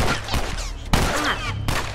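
Gunfire from The Last of Us video game rings out as a few loud, booming shots spaced roughly a second apart over a dense game soundscape.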